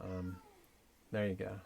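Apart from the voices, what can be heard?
cat meowing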